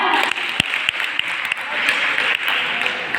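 A crowd applauding steadily at a college short-play performance, a dense wash of many hands clapping at moderate volume with a few sharper claps standing out.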